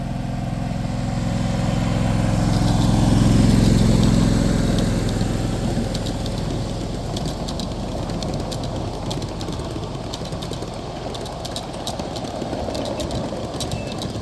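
A red Katy-9 live steam scale locomotive runs at a club meet, giving a steady low rumble and chuffing that swells over the first few seconds and then holds even, with faint metallic clicks and hiss on top.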